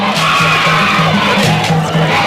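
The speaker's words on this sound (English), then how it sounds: "listen to the crowd now. They are charged." Loud, charged football crowd at a Sesdo Nawettan 2024 match between Spurs Youth and Wakh Sahalat, a dense roar of cheering and rhythmic chanting that swells and pulses steadily throughout.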